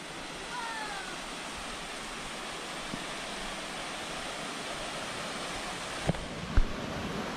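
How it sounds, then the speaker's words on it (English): A canyon waterfall roaring as a steady broadband rush of falling water, continuous and fairly loud throughout, with a couple of brief knocks near the end. "And this is the higher waterfall."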